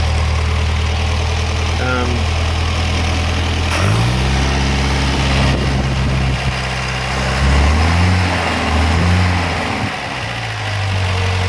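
A scrap car engine runs on a stand with its mixture too rich, holding a loud, close, rough idle. The engine revs up and down a few times, with low voices in the background.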